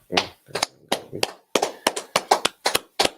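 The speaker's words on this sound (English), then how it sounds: "Let's clap it up" A small group claps in scattered, uneven bursts of sharp hand claps, close and loud, with pauses between the bursts.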